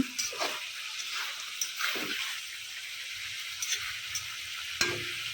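Fish heads, fried earlier, sizzle steadily as they are sautéed with spices in a pan, with scraping stirs cutting through the continuous hiss.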